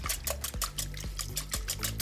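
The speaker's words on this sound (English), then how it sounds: "And then just add in some water." Water being poured into a freshly whisked binding mixture for an almond crust on prawns, a steady close trickle and splash running continuously under faint background music.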